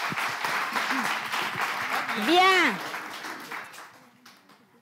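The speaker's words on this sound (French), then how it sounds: "Applaudissez pour elle, pour moi." Studio audience applauding during a live radio broadcast, a steady patter of clapping running under ongoing talk before thinning out near the end.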